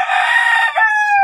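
Roosters crow at feeding time on a poultry farm, one long loud call followed by another starting near the end, close by with no talk.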